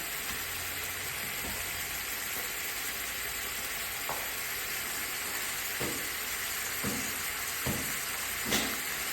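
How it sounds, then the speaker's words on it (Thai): Pork with bamboo shoots stir-fried in a pan, giving a steady loud sizzle with intermittent scraping and stirring knocks, with no talking. "ผัดหมูใส่หน่อไม้ผัดหมูใส่หน่อไม้นะคะ"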